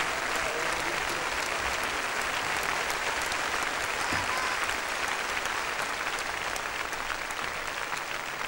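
Audience applause for singers at a concert, a dense, continuous roar of many hands clapping, steady and loud throughout with no voices over it.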